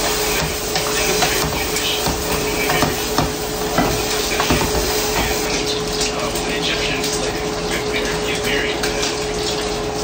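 Chop suey stirred and frying in a pan, a steady dense sizzle with scraping stir noises running throughout, close and fairly loud with no talk.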